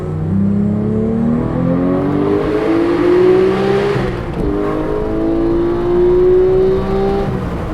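A manual Porsche 991.2 GT3 revs its exhaust loudly and steadily, the engine note climbing in pitch, dipping briefly around the midpoint, then rising again, close and continuous with no talk over it.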